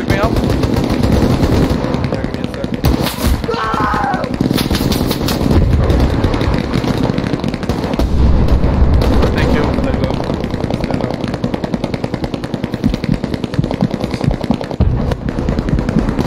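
Machine gun fire in the World War II shooter Hell Let Loose, near-continuous loud bursts of automatic gunfire amid a dense battlefield din, with a player talking over it.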